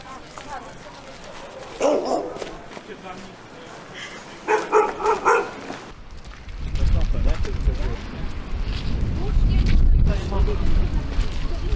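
Shelter dogs being walked through the streets of Wałbrzych, Poland, bark in several quick, close bursts at first, then give way to a heavy, continuous rumble of wind and handling noise.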